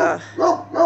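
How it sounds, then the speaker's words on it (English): A neighbor's dog barks three times in quick succession behind a house, each bark loud, close and clear with short gaps between. "But that's the neighbor's dog."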